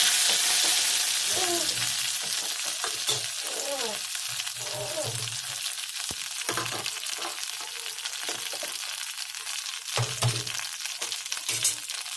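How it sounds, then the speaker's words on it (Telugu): Ginger and onion paste sizzling in a hot pan while being stirred, a steady close frying hiss with intermittent scraping of the spoon. "కొంచెం దీంట్లో అల్లం ఉల్లిగడ్డ పేస్ట్ వేసుకోవాలి వేసుకొని బాగా కలుపుకోవాలి"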